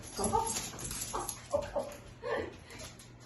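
A small dog whimpers in a home kitchen, a few short, thin whines repeating at close range over quiet background noise.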